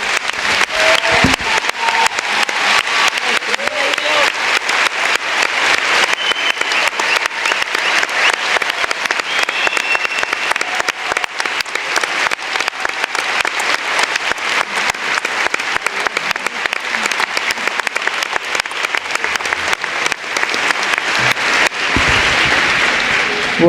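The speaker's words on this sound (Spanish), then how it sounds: "creo que este aplauso fue contundente" Sustained audience applause following a talk at a panel session on health and public policy, a dense, steady wash of clapping lasting over twenty seconds with a brief surge near the end.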